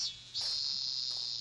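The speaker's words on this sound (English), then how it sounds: "We walked in silence through the midsummer heat, surrounded by the voices of cicadas." Cicadas sing in midsummer heat, a steady high, shimmering drone that carries on without a break, faint and continuous.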